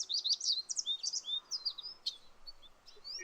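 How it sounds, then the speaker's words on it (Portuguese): Small birds chirping and singing outdoors, a busy stream of high, quick tweets and trills from several birds, fairly close and steady, with no voices. "Olha os passarinhos."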